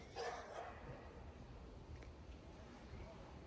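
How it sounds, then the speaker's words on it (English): A neighbour's dog barks next door, a yapping burst early on and then fainter, distant barks under a steady outdoor hush, with no talking. "the dog that's barking next door because it has been barking nonstop all morning"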